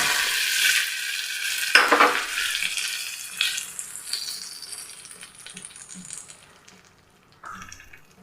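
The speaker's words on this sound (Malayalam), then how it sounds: "ഇനി നമുക്കിതൊന്ന് കടുക് വറുത്തെടുക്കാം കേട്ടോ" Mustard seeds, urad dal, dried red chilies and curry leaves frying in hot oil for a rava dosa tempering: a burst of sizzling and crackling up close that gradually fades, with light stirring noises.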